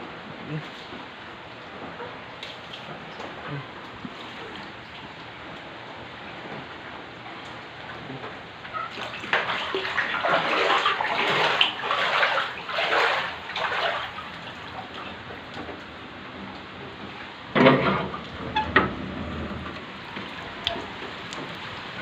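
Floodwater from a dam release rushing and splashing into a house at close range, swelling in loud bursts midway and again near the end, with brief voices mixed in.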